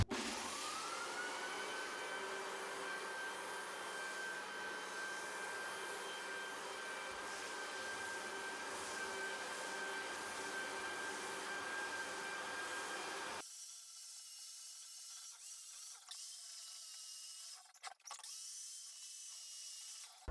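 A floor sander works over a hardwood floor during refinishing, a loud steady whine and roar for about thirteen seconds that then cuts to a quieter motor hum with brief scraping bursts near the end, with no voices.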